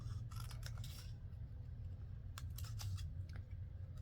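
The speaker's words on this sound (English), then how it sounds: "And I can't say I always cut corners very perfectly" Scissors snip the corners of paper while a belly band with pockets is made from an 8.5 by 11 inch sheet, giving quiet clusters of short cuts, one group early and another later, over a low steady hum.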